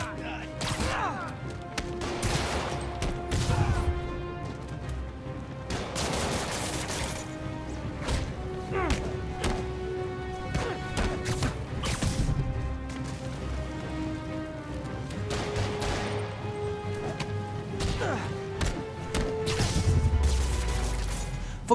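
Spider-Man Remastered gameplay on a Core i9 13900K gaming PC, with repeated crashes, thuds and smashes of combat over a steady bed of rain and city ambience, accompanied by sustained musical tones.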